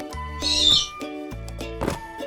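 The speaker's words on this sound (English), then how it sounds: "It's a snowy owl." A snowy owl call, an arctic bird: a few close, clear harmonic calls with breathy, hissy bursts between them, loud and alone with no talking.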